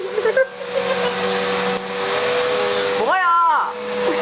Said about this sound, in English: She's trying to eat me alive with a vacuum cleaner.